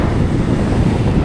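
Strong habagat monsoon wind blows at the sea near a fishport where boats shelter, a loud, constant roar buffeting the microphone with no pause.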